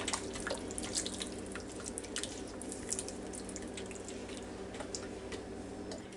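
Water drains from a can of dark red kidney beans for chili, with a continuous wet trickle and scattered drips and squishy taps, fairly close and quiet throughout.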